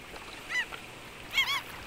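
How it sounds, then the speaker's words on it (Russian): Gulls calling at a nesting colony in the Arctic tundra of the Lena River delta, Yakutia: two short bursts of harsh, wavering cries, moderately distant, over a quiet background. "По скоплению птиц и крику можно издалека определить, что там находится гнездовье чаек."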